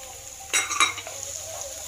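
Finely chopped onion dropped into a hot pan for veg fried rice, a short burst of sizzling and stirring scrapes, then a low steady frying hiss.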